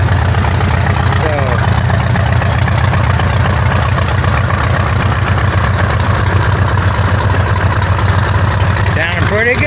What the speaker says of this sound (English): sounding pretty good for a Volkswagen, huh?